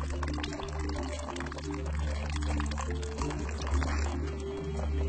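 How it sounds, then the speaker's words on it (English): Water flowing steadily through a hydroponic vertical farming system, a continuous close pouring and gurgling wash with a constant low hum of pumps underneath, no talking. "The water goes like that one, then it goes to the reservoir,"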